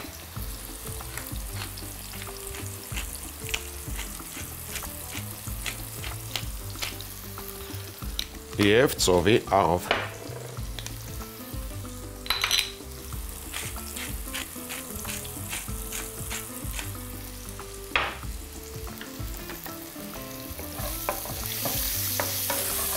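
Zucchini seasoned with pepper fries in a pan, giving a steady sizzle with repeated scraping stirs and a louder clatter midway, while a voice talks over it.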